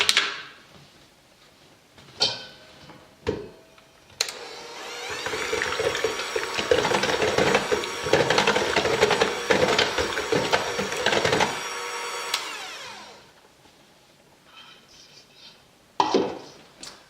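A whisk rattling rapidly against a bowl for about eight seconds while eggs are mixed into wet ingredients, framed by a few scattered knocks and clinks before and after.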